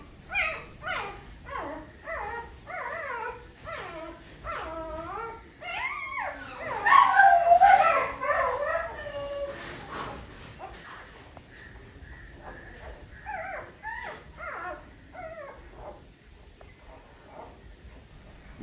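Dog whimpering while giving birth to puppies, a close series of high, thin whines and whimpers repeating in uneven bursts, swelling into louder cries midway before settling back to softer whining, with no talk.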